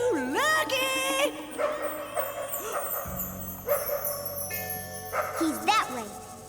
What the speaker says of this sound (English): That barking could have come from anywhere.